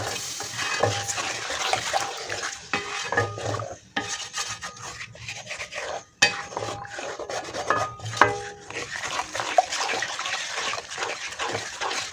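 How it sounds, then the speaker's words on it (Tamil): A spoon stirs a wheat flour halwa mixture in a pan, giving a steady rasping, scraping rub with sizzling, repeated near and continuous for most of the stretch with brief pauses. "கரண்டி கை விடாமல் கிண்டி கொண்டே இருங்க"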